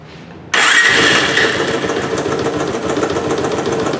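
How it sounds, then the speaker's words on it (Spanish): A Bajaj 180 motorcycle engine abruptly starts and settles into a loud, steady idle that continues to the end. "aquí ya tenemos la moto armada y vamos a prenderla."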